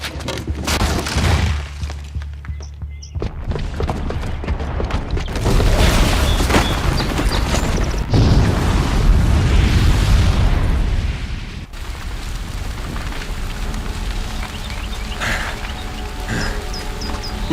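A booby-trapped bomb goes off in Horizon Zero Dawn, loud booming blasts and rumbling debris filling the scene in heavy, sustained waves.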